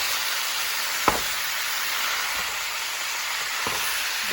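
Meat frying in a big pot for Creole chili gives a steady, even sizzle and hiss, with a couple of faint clicks from stirring and no talking.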